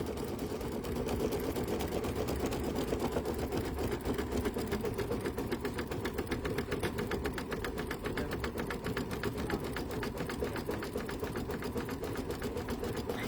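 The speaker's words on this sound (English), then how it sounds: "And by Amanda making that satin stitch wider and denser, it just covers it up so nicely." Sewing machine running continuously at a steady pace, stitching a wide, dense satin stitch on an ornate pumpkin design for a coaster, with an even rapid mechanical hum and clatter throughout.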